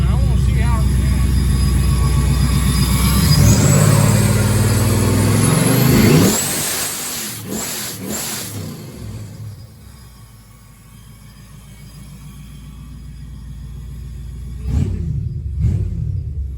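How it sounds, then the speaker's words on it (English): A Procharger-boosted junkyard car engine being tuned revs hard and loud, swells and sustains, then drops back toward idle before a couple of sharp blips near the end. "Dakota, take this and film the engine. I want to see how it reacts"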